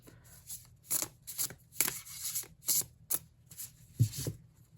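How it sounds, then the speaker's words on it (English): Overhand shuffling of a deck of astrology cards gives several crisp, close riffling bursts in an uneven rhythm, separated by short pauses, with no talking. "Let's see how they shuffle in the overhand. The overhand feels pretty good."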